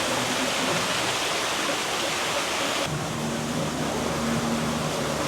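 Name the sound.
waterfalls at the Mai Kai Restaurant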